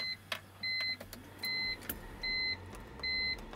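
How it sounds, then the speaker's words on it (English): A BMW E46 car is switched on with the ignition, giving a series of four or five evenly spaced electronic chimes or beeps with faint clicks and a low hum between them. "now I'm going to just turn the car on here"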